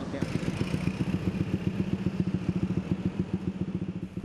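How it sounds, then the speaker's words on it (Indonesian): A motorcycle fitted with a noisy aftermarket exhaust idles and revs loudly and close, pulsing in a rapid steady rhythm on a public road during a police inspection. "menertibkan kendaraan dengan knalpot bising"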